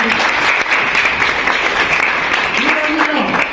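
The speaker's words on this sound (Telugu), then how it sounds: "మనమందరం కూడా ఒక్కసారి వారికి చప్పట్లు కొట్టి" A school audience honouring a teacher at a girls' high school in Chagalamarri, Nandyal district, claps loudly and steadily throughout, a dense continuous applause with a voice faintly rising near the end.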